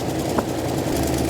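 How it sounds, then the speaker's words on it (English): An old V8 Mustang engine running rough and popping back through the carburetor: a loud, close, low mechanical rumble with a brief pop partway through. "It's popping back through the carburetor."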